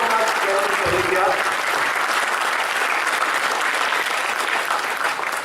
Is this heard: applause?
yes